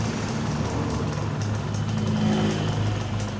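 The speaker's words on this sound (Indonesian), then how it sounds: "Jadi ini bisa kita perhatikan saat mesin langsam seperti ini" A Yamaha F1ZR two-stroke motorcycle engine runs at idle during a side oil pump adjustment, a steady close mechanical drone with a low thrumming pulse, continuous and fairly loud, with no speech.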